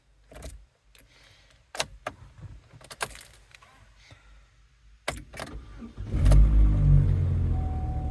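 A Chevrolet car with over 100,000 miles starts after a cold spell: faint clicks, a key jangle and rustling first, then the engine cranks and catches into a loud, steady idle that lasts to the end.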